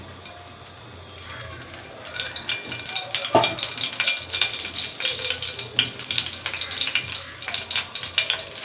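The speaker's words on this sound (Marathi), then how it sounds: "त्याच्यात राई टाकली." Mustard seeds crackling and sizzling in hot oil in a pan on a gas stove while making lemon-chilli pickle, a dense loud spattering hiss that builds after the first second and keeps popping steadily.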